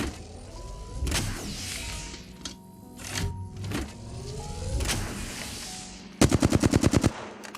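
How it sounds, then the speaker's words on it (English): Video game gunfire hits the player in scattered bursts over ambient game effects, ending in a rapid loud burst of automatic fire. "Getting shot at."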